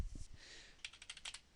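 Fingers tap a computer keyboard in a quick burst of faint, crisp clicks, with a brief pause before a rapid run of keystrokes near the end.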